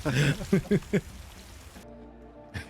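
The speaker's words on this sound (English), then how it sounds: "Now it's raining." Steady rain hiss from a scene in the animated series Arcane season 2, heard under a few brief spoken syllables at the start and then continuing alone as a soft, even wash.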